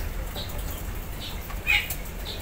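A small ciblek bird beats its wings in several short, soft flutters spaced about half a second apart, heard close up over a quiet background hum, with one slightly louder flurry in the middle.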